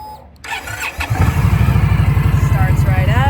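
A 2018 Indian Scout Sixty motorcycle engine cranks briefly, catches, and settles into a steady, close, rumbling idle. A voice talks over the start.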